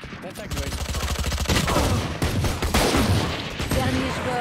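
Rapid, dense gunfire rattles through a Valorant match as Marshal sniper rifles are spammed, loud overlapping shots and booms packed together with a voice talking over the barrage.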